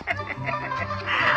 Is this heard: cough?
no